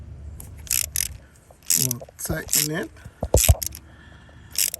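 Small metallic clicks and ratcheting scrapes come from a wrench tightening a coolant temperature sensor deep in a 1996–2002 Toyota 4Runner 2.7L engine bay, in short irregular bursts, close and fairly quiet.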